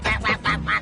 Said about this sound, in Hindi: बतख।